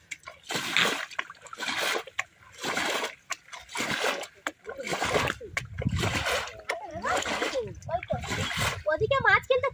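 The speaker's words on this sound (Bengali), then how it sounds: "জল তো ওপর থেকে চলে আসছে ওদিকে, তাই ওদিকে খুব আওয়াজ হচ্ছে।" Water splashes and pours in a drained fishing pond where water runs in from higher ground during hand fishing, with busy sloshing bursts throughout; people talk over it.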